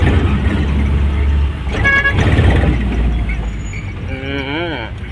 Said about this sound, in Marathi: ट्रकचा हॉर्न आहे ट्रकचा हॉर्न बसविलाय का काय?